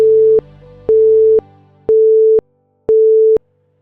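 Telephone busy-style disconnect tone after a call is hung up: four steady, loud beeps of about half a second each, evenly spaced with short gaps, heard alone with no voices.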